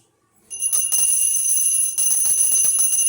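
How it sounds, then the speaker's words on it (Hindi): A small prayer bell during a Satyanarayan puja starts ringing suddenly after a moment of silence and keeps up a rapid, continuous, bright metallic jingle, loud and close. "घंटी बजाओ थोड़ी सी, बजा दो एक बार।"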